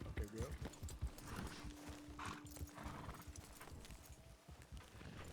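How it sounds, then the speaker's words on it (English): Horses walking in a Red Dead roleplay game, with hooves clip-clopping in an uneven rhythm, several snorts and a whinny, while voices talk over them. "If we walk the horses, it won't be so damn loud."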